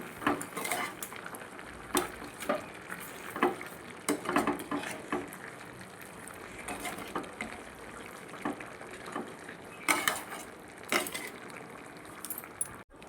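Mutton and salt being stirred in a cooking pot, with repeated clinks and scrapes of a spoon against metal in an irregular rhythm over a faint wet background, close and fairly quiet with no talking.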